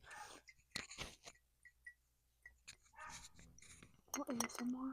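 A dog barks in a quiet room in short sharp bursts between a person's talking, with a few clinks of dishes nearby.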